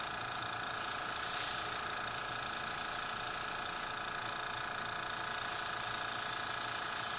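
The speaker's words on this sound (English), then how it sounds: "I'm going to spray around your mouth now" An airbrush sprays face paint in a soft, continuous hiss of air that swells and eases in several gentle bursts over a steady background hum, with no voices.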